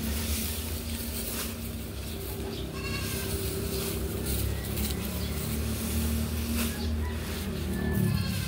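Penned goats, including young kids, bleat now and then over a steady low rumble of farm background noise.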